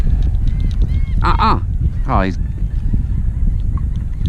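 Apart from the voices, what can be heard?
birds squawking while fighting over a topwater fishing lure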